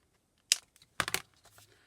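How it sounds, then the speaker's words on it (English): A strip of thick paper is pulled away with a sharp crunch, then a louder cluster of rapid crackling tears about half a second later, close and otherwise quiet. "it's because the paper's quite thick. I'm like, why is that making all that crunching noise?"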